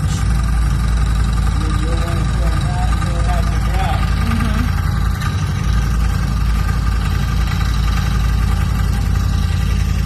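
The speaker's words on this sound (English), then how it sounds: "Just wide open throttle pulls, 2 of them." A CFMOTO Z-Force 950 UTV with a big bore build and a Varco race clutch runs at wide open throttle, its engine a loud, steady drone throughout with dense broadband roar and faint rising tonal pulls.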